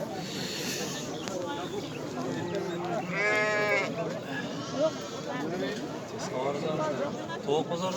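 Sheep bleat at a livestock market in Batken town, with one clear, drawn-out bleat standing out from a steady background of voices and crowd noise.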